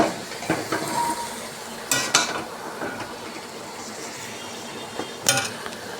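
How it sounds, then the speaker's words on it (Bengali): Meat fries with spices in a pan, a continuous sizzle broken by several sharp clanks and scrapes of a spoon stirring against the pot, close and fairly loud. "আমি কষাবো ভালো করে মাংসটার সাথে মশলাটা"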